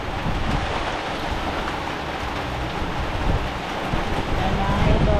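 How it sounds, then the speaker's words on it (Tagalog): Heavy rain pours steadily and loudly at close range as a continuous broadband wash, with voices talking intermittently over it. "lakas ang ulan"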